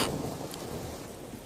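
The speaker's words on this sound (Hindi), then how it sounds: "एक तो बारिश हो रही है, सारी लकड़ियां भीग गई हैं।" Steady rain falls with a low thunder rumble, a soft continuous wash of drops heard from a distance and fairly faint throughout.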